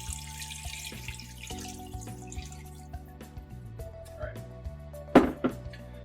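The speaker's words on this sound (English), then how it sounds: "you can go ahead and pour our water in" Water, about four cups, is poured into a pot over raw chicken breasts for homemade broth, a soft splashing trickle that is faint and close, under a person talking.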